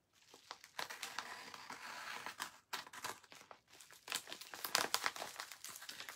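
A big paper envelope, folded down, is handled close by, giving off quiet, irregular crinkling and rustling bursts with brief pauses between them.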